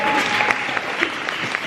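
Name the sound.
audience applause at a graduation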